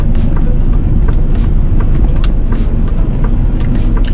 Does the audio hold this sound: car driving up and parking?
yes